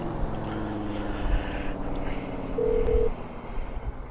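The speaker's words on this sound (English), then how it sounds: "What the fuck is that phone?" A phone in the GTA IV game gives off a short electronic dialing tone, one brief steady beep under low engine rumble and ambient game noise, with no talking.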